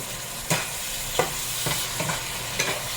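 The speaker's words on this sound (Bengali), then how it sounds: "আমি গরুর মাংস বসাই দিছি তো গরুর মাংসটা কষানো হইতেছে" Beef being stir-fried and reduced in a pan, a steady loud sizzle with several sharp scrapes of a spatula stirring the meat at irregular intervals, no voices.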